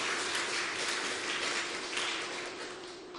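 A church congregation at a Sunday afternoon choir dedication service gives a sustained burst of even, dense applause, fairly distant and filling the room, with no talking over it, fading slightly at the end.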